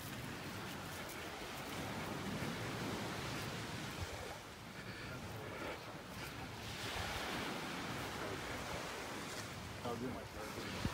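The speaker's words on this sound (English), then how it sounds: "The tide's coming in here" Ocean surf rolling onto a beach in North Naples, Florida as the tide comes in, a steady broad wash of breaking waves with wind noise buffeting the microphone throughout.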